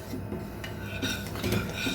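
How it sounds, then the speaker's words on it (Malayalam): A spoon stirs chocolate into a thickened pudding mixture in a pan, giving close metallic scrapes and clinks against the pan in a quick uneven rhythm for about two seconds, with no voices. "ഒന്ന് ഇളക്കി കൊടുത്താൽ മതി."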